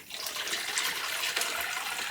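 Custard pours steadily through a fine mesh strainer in a soft, continuous splashing stream, close and moderately loud, with no talking.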